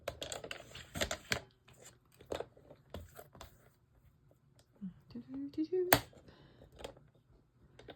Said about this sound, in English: now I have this Merry Christmas on here that I'm going to cut out